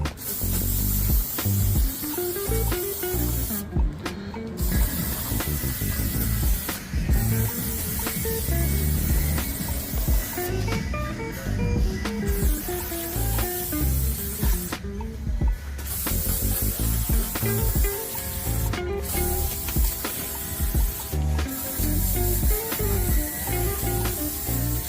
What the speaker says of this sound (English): I'm gonna go ahead and spray them down with some brake cleaner